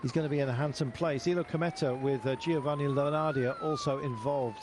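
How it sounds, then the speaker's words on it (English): Wailing sirens at the finish line of a road cycling race stage in San Juan, Argentina, a rising and falling tone running steadily beneath continuous race commentary. "wailing sirens that are going through your heads at the moment"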